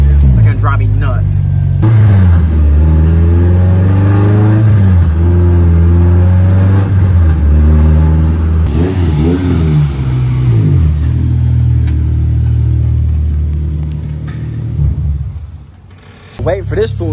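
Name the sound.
race car being driven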